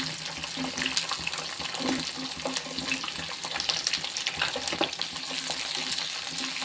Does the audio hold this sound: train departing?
no